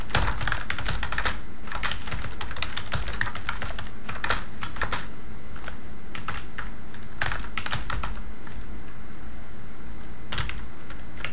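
Computer keyboard clicking as code is typed, bursts of quick keystrokes separated by short pauses, close and clear with no talk over it.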